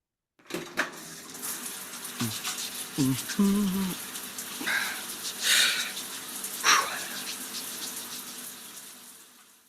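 Water running from a shower, hissing sprays that start and stop in uneven bursts with a few thuds and clatters between them, moderately close and alone.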